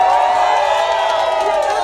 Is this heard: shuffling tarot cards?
no